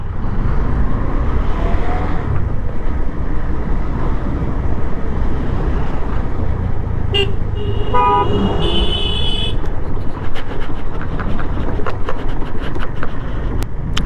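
Steady rumble of road traffic backed up at a railway level crossing near Siliguri, India, with engines droning, and a car horn honks loudly in short repeated blasts midway through, followed by scattered clicks.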